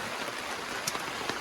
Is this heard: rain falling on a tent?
yes